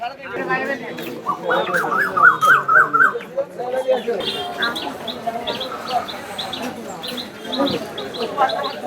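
Roosters cluck and squawk close by amid busy chatter at a rural village market in Ullapara, Sirajganj, with several people bargaining over the birds.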